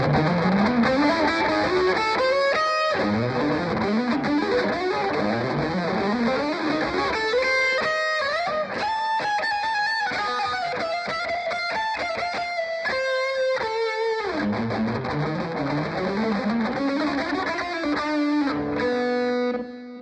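Electric guitar through humbucking pickups and heavy distortion, played continuously for about twenty seconds: sustained chords and melodic runs, loud and close, ending abruptly with no talk.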